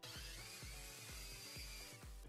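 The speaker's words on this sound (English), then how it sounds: "Drill them with a 20mm bit." A power drill with a 20mm bit runs continuously while boring holes into chipboard, with a rhythmic series of repeated dips and surges in its whine, no talking.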